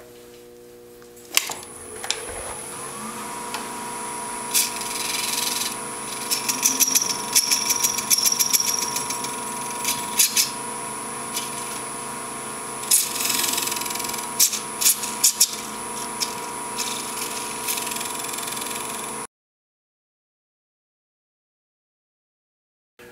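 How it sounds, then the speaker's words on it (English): Wood lathe spinning a cast resin needle case blank while a D-Way beading tool cuts it, giving a steady machine hum with scraping bursts and ticking contact noises, close and fairly loud, then stopping abruptly near the end. "Now what I'm using is a D-Way beading tool."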